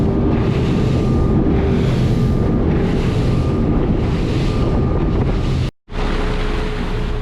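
A Stabicraft 2050 aluminium boat motoring across open water toward Hood Canal, with a steady engine drone blended into continuous wind and water rush, loud and close, briefly cut out near the end.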